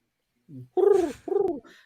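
A person imitates a pigeon's cooing by voice, giving a short soft lead-in and then two rounded, throaty coos in a row, close and clear, with no other talk.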